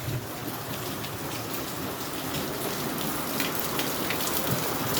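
Heavy rain falls steadily on an orchard farm, a dense, even hiss of drops striking surfaces close by, with a faint low rumble of thunder underneath and no talking.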